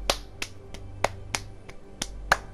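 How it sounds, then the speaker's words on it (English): Clapping emote in the Fortnite video game: a run of seven sharp, crisp claps at an irregular steady pace, moderately loud over a faint background hum, with no voices. "I'm just clapping for some reason."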